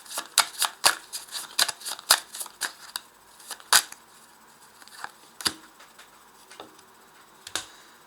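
Tarot cards being shuffled and laid out, a series of sharp close snaps and flicks spaced irregularly, with softer card rustles in between.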